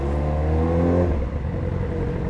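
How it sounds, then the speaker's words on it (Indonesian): A big-torque Yamaha sport motorcycle engine gives a brief, loud throttle blip, its harmonic growl rising then dropping back to a rough, steady idle with no talking. "disenggol sedikit gasnya dia wuk wuk gitu dia cuy"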